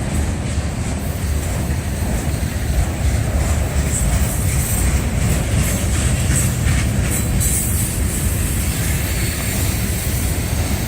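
CSX auto rack freight train rolling past at steady speed near LaGrange, Georgia, with a continuous loud rumble of wheels and rail clatter filling the whole stretch, no voices.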